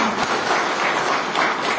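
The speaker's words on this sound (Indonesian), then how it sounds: "Jadi cukup tepuk tangan." Audience clapping at a village head candidates' vision-and-mission campaign event in Desa Bantar, Jatilawang, a dense, steady wash of many hands that stays fairly close and even throughout the short stretch.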